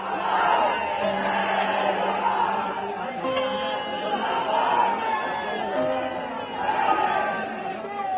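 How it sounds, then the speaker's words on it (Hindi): A large crowd on the street chants for fallen soldiers and waves tricolour flags as a funeral vehicle passes, steady dense chanting and shouting that rises and falls over several seconds. "लोग तिरंगा लहराते और शहीद जिंदाबाद करते दिखे"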